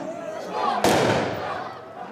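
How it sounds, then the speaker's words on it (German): A single sharp gunshot rings out at a nighttime funeral gathering in the Middle East, cracking loudly over murmuring crowd voices and echoing away. "Und dann fallen wieder Schüsse."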